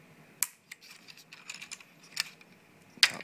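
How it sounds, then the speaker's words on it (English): Keycaps being pried off a Razer BlackWidow mechanical keyboard with a card: small plastic clicks and scrapes, then two crisp snapping pops, close and fairly quiet. "I'm going to take out these two keys, and just pop out easily"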